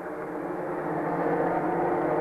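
Stock race cars roaring around the Thunder Road Speedbowl track, one car's engine failing, a steady droning engine noise holding level and swelling slightly, with no voices.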